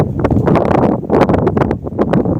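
Strong wind gusting outdoors over a field, battering the microphone in loud, rough buffeting bursts that rise and fall without a pause, with no voices heard.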